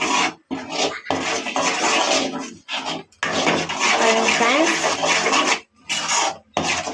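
Dough is stirred without pause in a pan, with repeated rough scraping and rubbing strokes that come in long bursts separated by short gaps. The sound is close and fairly loud.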